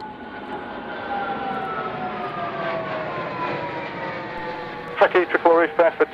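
A fixed-wing aircraft at the RAF Fairford airshow whines past with a steady, sliding engine tone of moderate loudness, then a voice starts talking over it near the end.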